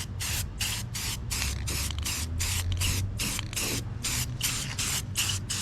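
Rattle-can spray paint goes on in a light coat over the metal hood of a 2010 Honda Civic, a dozen or so short, even hissing bursts in a steady rhythm, loud and close, with no talking.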